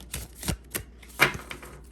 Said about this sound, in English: I'll shuffle her a little bit just to mix up the energy.